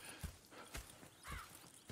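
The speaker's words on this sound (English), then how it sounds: "Go check the horses are ready." Horses in the video game Red Dead Redemption 2, with several hollow clip-clop hoof steps at an uneven walking pace and a short whinny, close and fairly quiet.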